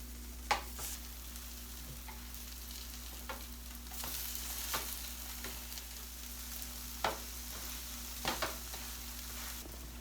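Cheesy eggplant slices sizzle gently in a frying pan, a steady quiet crackle broken by a few sharp pops and light clicks of a utensil.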